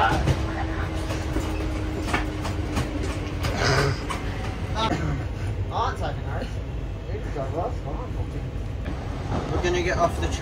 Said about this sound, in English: Now we're going on a train.